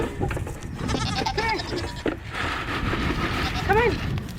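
Goats bleat twice, close by, in wavering cries among farm background noise and some indistinct human voices.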